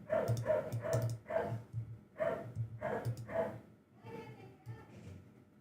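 Several dogs barking repeatedly in loud bursts with short gaps, some yips mixed in, fading to quieter whimpers near the end, heard indoors over a faint synth bass in a home studio.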